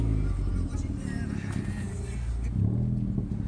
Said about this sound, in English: How about we hear a little bit of exhaust and intake noise?